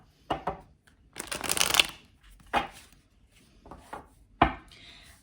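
Tarot cards shuffled by hand, a few brief riffling bursts with one longer ruffle in between, close and fairly quiet with pauses of near silence.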